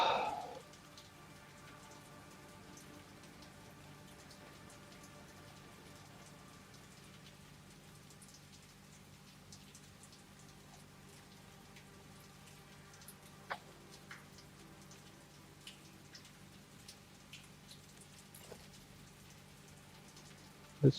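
Rain falling in the video game Satisfactory, a soft continuous patter with a low steady hum underneath and a few scattered louder drip ticks, fairly quiet and without any voices.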